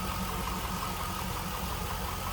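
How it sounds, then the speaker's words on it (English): A 2002 Chevrolet Camaro Z28 convertible engine idles steadily with an even, low rumble and no change in pace, heard with the hood open. "Hear that engine run, sounds good."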